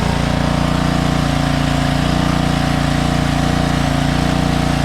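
A Ryobi 3000 PSI gas pressure washer runs nearby, its engine making a loud, steady, even drone with no break and no talk.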